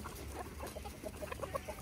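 Soft, short clucks from chickens, a quick series of low murmuring notes heard fairly faint over background noise.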